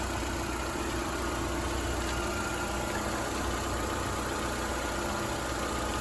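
A car engine idling steadily after being jump-started with a cheap makeshift setup, a continuous low rumbling hum with faint vibration, constant and fairly quiet with no talk.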